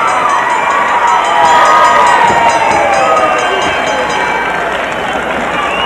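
A capacity crowd at a 1984 WWF wrestling arena cheering and roaring loudly in a sustained swell, with a commentator talking over the noise throughout.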